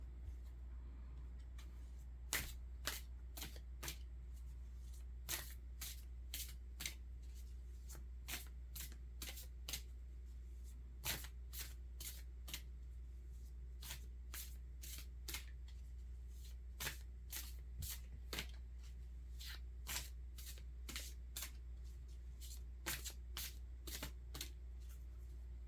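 Soulflower oracle cards being shuffled by hand, a long series of crisp, close card flicks and snaps in irregular clusters over a steady low hum, with no talking.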